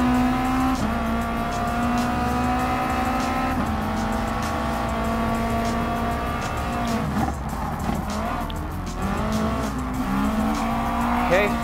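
Racing cars in Gran Turismo Sport, including a McLaren 650S, drone steadily with engine tones shifting as they accelerate and brake, with some tire squeal, under a continuous close engine roar throughout.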